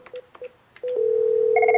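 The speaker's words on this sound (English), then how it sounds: "I'm going to dial the other number." Several short beeping keypad tones in quick succession, then a steady tone followed by a pulsing higher ringback-like tone, all clear with no talking.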